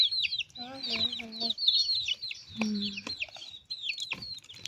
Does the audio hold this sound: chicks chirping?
yes